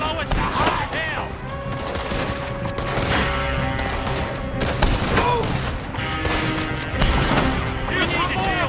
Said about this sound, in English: Shoot them, Arthur, before they blow us to high hell!